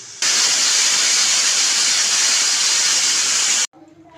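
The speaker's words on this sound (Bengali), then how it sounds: "প্রেসারে একটা সিটি দিয়ে নামিয়ে দেবো।" Pressure cooker with sabudana khichdi vegetables venting steam through its whistle: one loud, sustained hiss lasting over three seconds that cuts off abruptly, close by.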